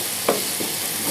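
Potato and paneer being fried and stirred in masala in a pan, a steady close sizzle with a couple of soft spoon scrapes over about a second.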